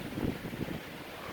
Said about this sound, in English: it's absolutely incredibly windy out here